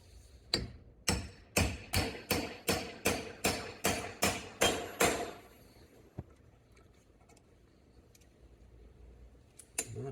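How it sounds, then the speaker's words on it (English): Hammer striking a punch to drive a small pin out of a Bally Star Trek pinball playfield: about ten sharp, evenly spaced metallic taps in a quick steady rhythm, close and clear, then quiet with a couple of faint knocks. "first thing I'm gonna do is just try to beat this pin out"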